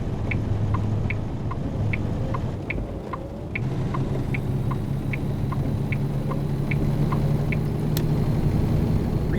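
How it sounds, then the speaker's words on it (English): Truck engine braking in American Truck Simulator, a low continuous drone with a rhythmic pulsing chatter over steady road rumble, alone and fairly loud throughout. "Very interesting engine brake sound for this."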